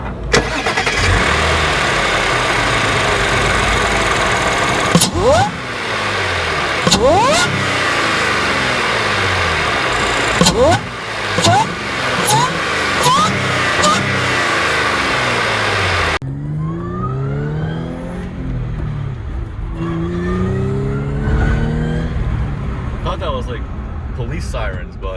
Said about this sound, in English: That's just a supercharger noise.